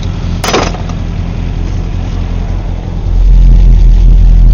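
A Series II Land Rover engine runs rough and rich after a cold start, a steady loud rumble with an uneven note that grows heavier and louder near the end, with no talk.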